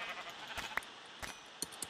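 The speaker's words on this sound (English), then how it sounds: "That's another brown sheep." Sheep in the video game Minecraft bleat in a few short, faint calls spaced across a quiet background, with no talking over them.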